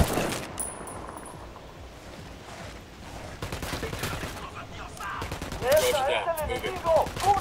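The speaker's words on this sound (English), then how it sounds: "Opening fire." Gunfire erupts in the tactical shooter Ghost Recon Wildlands, with a steady rattle of rifle shots and bursts of automatic fire mixed with game ambience, growing louder toward the end.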